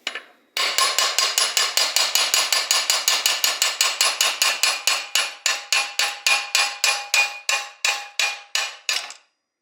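A crank removal tool on a blown-up Honda Zuma scooter's crankcase is struck by a hammer roughly forty times in a long, steady series of sharp metallic blows. The strikes are rapid and close at first, then gradually spaced further apart.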